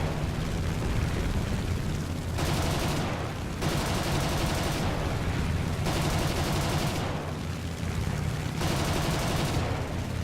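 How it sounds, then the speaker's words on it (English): The slow-firing nose cannon of a fighter aircraft in War Thunder fires in several sustained bursts separated by short pauses, with dense, loud booming over continuous engine roar. "the cannon in the nose of his aircraft fires a bit slowly"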